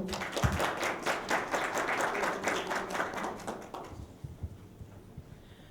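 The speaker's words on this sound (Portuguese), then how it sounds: "Palmas, por favor" Audience applause at a Telebrasil panel session, dense clapping from a seated crowd that swells for about four seconds then thins to a few scattered claps before stopping.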